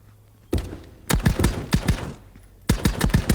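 Gunfire in the VR shooter game Contractors, in survival mode: short clusters of sharp, loud shots fired in rapid bursts, separated by brief pauses.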